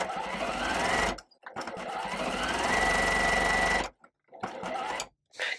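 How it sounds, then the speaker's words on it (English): A sewing machine joins quilt pieces for a star block, whirring loud and close in two long continuous bursts broken by brief stops, then a short final run. "Okay, so I've got that top piece sewn on"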